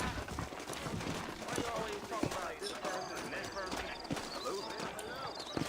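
Several horses clip-clop steadily in Red Dead Redemption, close and fairly loud hoofbeats with occasional snorts, while people talk over them throughout.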